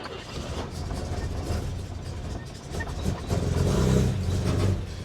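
A 1952 GMC truck engine runs and revs up, a steady mechanical rumble that swells louder toward the end, close by with no one talking.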